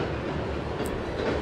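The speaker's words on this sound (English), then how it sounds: "this Ohio Central train has some interesting power on the point" A passing Ohio Central freight train, led by an EMD SD40-2 locomotive, gives a brief, loud, steady rumble of rolling railcars close by.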